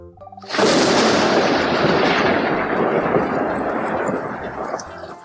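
Thunder from a lightning strike bursts in suddenly with a sharp crack, then rolls and rumbles loudly before slowly fading over a few seconds.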